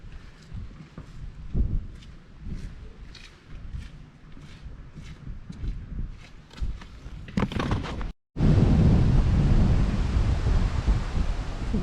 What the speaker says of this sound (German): Der Wind geht da oben.